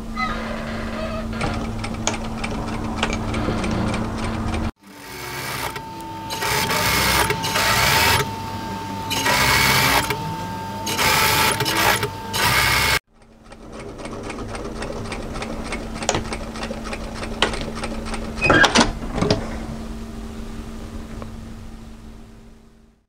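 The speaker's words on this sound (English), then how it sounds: "I'm going to stitch this from the right side of my garment" Sewing on a knit jacket from the right side of the garment, a sewing machine runs in one steady stretch of stitching, framed by quieter stretches of fabric handling and faint mechanical noise.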